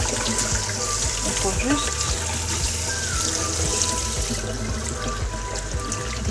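Beef short ribs are rinsed under running water from a tap for Korean LA galbi, a steady trickle and splash continuing beneath someone speaking French close by.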